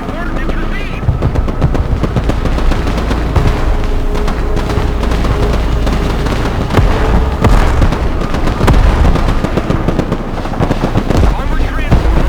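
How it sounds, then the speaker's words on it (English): Artillery barrage in the war video game Broken Arrow, dense continuous booms and crackling blasts rumbling loud throughout, with a voice faintly present under the explosions. "Artillery! Fire when ready!"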